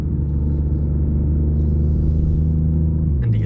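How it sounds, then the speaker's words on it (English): A 2019 BMW i8 Coupé engine drones steadily and loudly from inside the cabin, its pitch dropping sharply near the end as the car downshifts. No voices are heard over it. "The downshifts are pretty cool."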